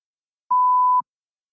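A single steady electronic test-prompt beep from a speaking exam, about half a second long, clean and alone with silence on either side.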